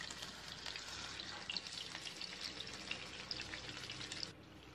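A salmon fillet sizzles steadily in a pan, a dense crackling hiss with small pops, dropping a little quieter near the end; no one speaks.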